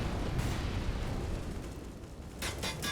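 Incendiary grenades bursting into fire on the Overpass map of a CS:GO professional match, a sustained roaring rumble of explosive flame with sharper crackling pops near the end, no talk.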